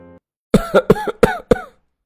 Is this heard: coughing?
yes